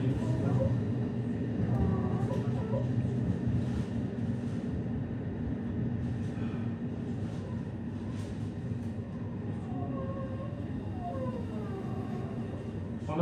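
A JR Hokkaido Hakodate Liner rapid train runs along the line between Hakodate and Shin-Hakodate-Hokuto, a steady continuous rumble of wheels and motors with faint brake squeals or whines rising at times.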